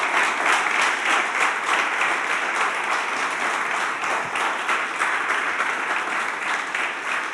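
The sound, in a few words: church congregation applauding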